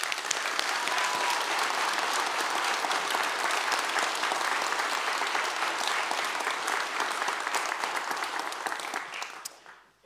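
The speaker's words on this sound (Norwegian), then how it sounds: "Det fortjener en ekstra applaus." Sustained applause from an audience at a farming and food production debate held at Stiklestad, steady and dense for about nine seconds before fading out at the end.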